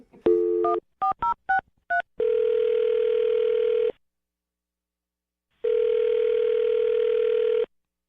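Touch-tone phone dialing a number: a quick series of separate DTMF key tones, then two long steady ringback tones separated by a pause of silence, clear and close with no talking.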